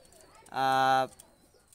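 A Pakistani high flyer pigeon gives a single clear, steady coo lasting about half a second, close and prominent, with a faint background before and after.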